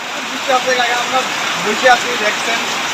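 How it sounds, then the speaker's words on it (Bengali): Heavy rain after three days of nonstop downpour, a dense, steady wash of falling water across the whole stretch, with a few louder bumps and people talking faintly underneath. "আপনারা এই যে দেখেই বুঝতে পারছেন কি পরিমাণে বৃষ্টি"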